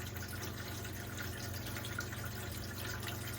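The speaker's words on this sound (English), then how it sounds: "So the water is still pumping out pretty good." Water pumps steadily out of the onboard water system of a Marine Trader boat being winterized, a continuous gushing rush with a low mechanical hum beneath, unbroken and moderately quiet.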